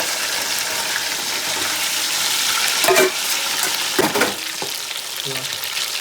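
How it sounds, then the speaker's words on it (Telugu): Chicken pieces deep frying in hot oil on a medium flame for a pickle, with a steady close sizzle and a few louder stirring bursts partway through. "దీన్ని కూడా సేమ్ అదే విధంగా అయితే డీప్ ఫ్రై చేసుకోవాలి"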